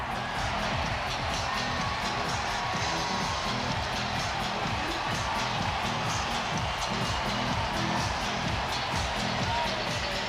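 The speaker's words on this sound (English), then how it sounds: "The spectacular Shohei rises this crowd to his feet again." A baseball stadium crowd at a Phillies–Dodgers game roars after a home run, a dense, steady wall of cheering and shouting that holds loud and unbroken from start to finish.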